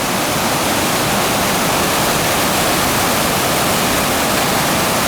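Steady, loud roar of the Cachoeira do Paraíso waterfall in the Boa Família district of Minas Gerais, a dense broadband rush of falling water with no pauses and no voices.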